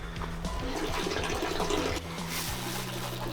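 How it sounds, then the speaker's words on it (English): A natural spring outdoors gives off a continuous rushing, gurgling flow of water, close and fairly loud, steady throughout with small splashy fluctuations. "Water running. Right here's your spring."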